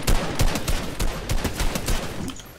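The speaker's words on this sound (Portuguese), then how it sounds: "Nossa, que tiro, hein" Gunfire in the video game Fortnite cracks out in a rapid burst of close, loud shots, uneven and clustered, with no voices over it.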